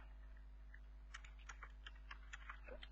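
Keys clacking on a computer keyboard, a quick uneven run of soft taps close by over a steady low hum, with no talking.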